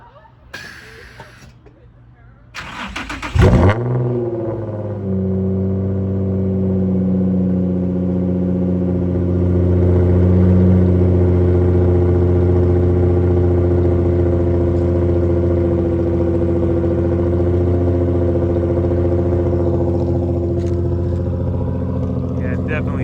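Nissan 350Z with Motordyne Art Pipes exhaust cold-starting: a brief cranking burst, then the engine catches with a loud rise and settles into a steady, deep, rumbling idle close by, with a slight swell midway.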